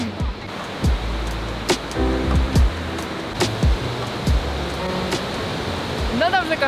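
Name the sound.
large waterfall roaring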